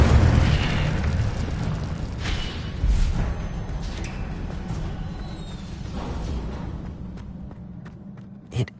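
Incendio fire spell cast in Hogwarts Legacy, a broad whooshing burst that opens loud and fades into a steady rumbling fire noise, with a brief sharp pop at the very end.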